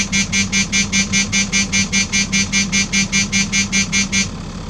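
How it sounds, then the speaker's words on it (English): Rapid, evenly pulsing electronic beeps of a vehicle's low air pressure alarm for the air brakes and suspension sound loudly and steadily over an idling engine rumble, then stop near the end. "the alarm you're hearing is the low pressure alarm."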